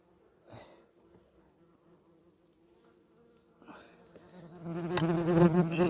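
Bees at an opened Levytsky hive, with a faint buzz and a few passing bees that build to a loud, dense droning swarm in the last seconds, close to the microphone.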